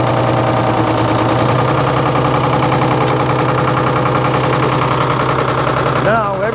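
A sawmill engine runs with the power takeoff engaged, driving the mill through six V-belts. It makes a loud, steady mechanical drone with a rhythmic knocking pulse, and a voice talks briefly over it near the end.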